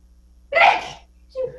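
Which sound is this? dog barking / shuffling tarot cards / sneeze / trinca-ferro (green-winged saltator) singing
sneeze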